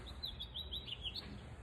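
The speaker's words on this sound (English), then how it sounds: "I hope you guys can hear the little bird that was just chirping." A small bird chirps in quick, high repeated tweets, a short run of bright notes heard faintly over a low background hum.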